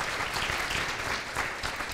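Dense, steady applause from a crowd, clapping continuously throughout at moderate volume.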